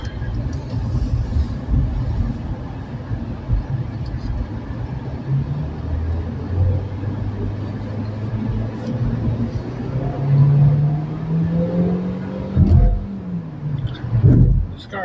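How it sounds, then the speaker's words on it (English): Noisy small car engine revving, a rough buzzing drone that rises and falls in pitch, winding up sharply several times near the end, close by with someone talking faintly. "This car makes a lot of noise"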